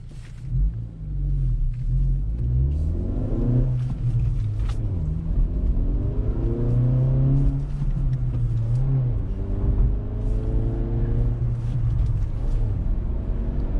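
A 2024 Acura Integra with a manual gearbox revs and pulls through the gears, its engine droning loudly from close inside the cabin and rising and falling in pitch with each shift over a low road rumble.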